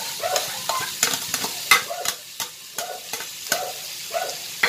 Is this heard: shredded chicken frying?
yes